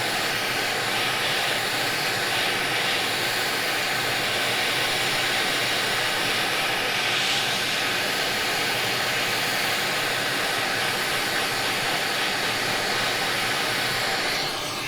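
A hot air rework blower heats a PlayStation 5 circuit board around a damaged USB port, giving a loud, constant breathy rush that holds steady throughout.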